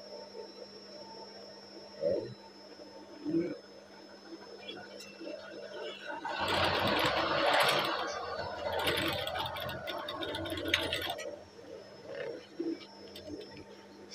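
Sewing machine stitching a PDH uniform shirt, a burst of close rapid mechanical whirring lasting about five seconds amid quiet room tone, with faint bird coos before and after.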